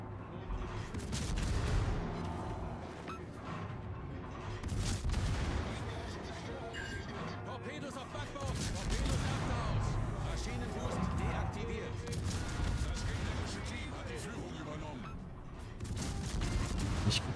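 Naval gunfire from the Swedish steel-hulled ship Svea in World of Warships, heavy artillery booms and shell blasts repeating densely throughout, mixed with game music and effects while a German-speaking player talks over it.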